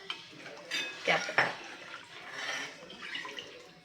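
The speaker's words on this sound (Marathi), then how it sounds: "ह्या भांड्यातच मी ढवळून हे पाणी ह्याच्यामध्ये ॲड करून घेणार आहे" Water being stirred into buttermilk in a metal pot for Maharashtrian kadhi: soft clinks and swishes against the vessel, with a couple of sharper scrapes near the start, close by and moderately quiet.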